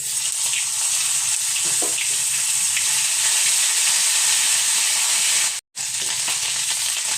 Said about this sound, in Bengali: আদাটা আমার ভাজা হয়ে গেছে